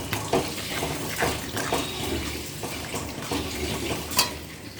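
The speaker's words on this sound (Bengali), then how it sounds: "এবার আমি জল ঢেলে দেব। পাশে গরম জল করে রেখেছিলাম, দিয়ে দিচ্ছি" Hot water is poured into a simmering prawn curry, giving a steady splashing, bubbling flow with soft clinks of a pan, close and continuous with no talking.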